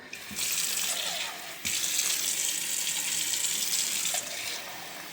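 Water runs steadily from a tap into a sink, a continuous hiss that briefly cuts off and resumes, close up.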